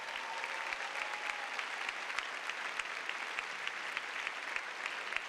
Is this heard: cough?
no